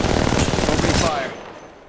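Rapid automatic gunfire in the mobile video game Apex Legends Mobile, a dense loud burst of shots for about a second that cuts off and fades into a brief tail.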